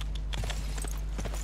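Horses walk in Civilization VI with hollow clip-clop hoofbeats, several quick irregular steps over a steady low hum.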